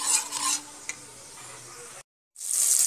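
Soya chunks frying in hot oil, a steady close sizzle with bursts of stirring, cutting out briefly to silence before the loud hiss returns.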